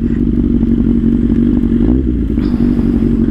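A Kawasaki Z800 motorcycle runs with a steady, loud low engine drone throughout, with a brief rev rise near the middle and some clatter, heard close and alone.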